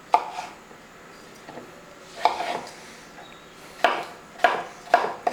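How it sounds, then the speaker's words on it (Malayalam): Three peeled, washed potatoes chopped with a knife on a board for a Kerala potato masala curry: a handful of crisp, separate knife strikes at uneven intervals, close and fairly loud, with no talking. "ഇത് നമുക്കൊന്ന് അരിഞ്ഞെടുക്കാം."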